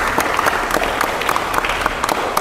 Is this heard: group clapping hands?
yes